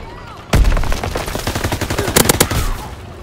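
Sustained gunfire in Call of Duty WW2 erupts after a quiet half-second, rapid machine-gun bursts and rifle shots crackling close and loud, with a denser volley of sharp reports near the end.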